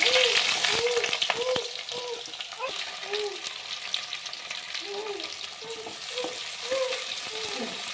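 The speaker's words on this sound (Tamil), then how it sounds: "இப்போ பெரிய வெங்காயத்தை போட்டுக்கிடுவோம்" Large onions fry in hot oil for a Chettinad tomato kuzhambu, with a constant hiss under a repeated rhythmic scraping and stirring that comes close and loud. Voices are faintly audible in the background.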